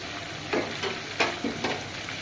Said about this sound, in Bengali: এখন মুরগিটা ভেজে নিচ্ছি যেহেতু হাঁড়িতেই রান্না করব সে কারণে এখন ছোট কড়াইয়ের মধ্যে একটা একটা করে ভেজে নিচ্ছি